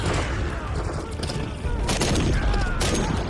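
Sustained gunfire in the Modern Warfare 3 campaign's Gulag rescue mission: dense, loud bursts of automatic shots and heavy impacts rolling continuously, with a voice speaking briefly over the fire.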